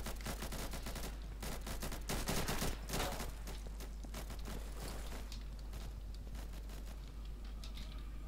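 A silenced AK rifle fires rapid muffled bursts in the Insurgency shooter game, dense repeated thuds for several seconds before thinning out into scattered shots, with no voices.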